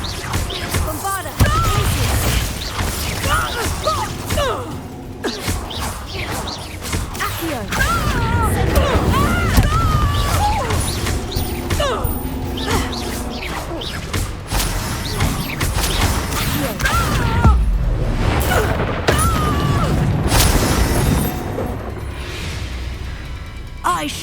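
A Bombarda blasting-spell explosion in the video game Hogwarts Legacy: heavy booms and crashes over dense, continuous combat noise and music, with voices talking throughout.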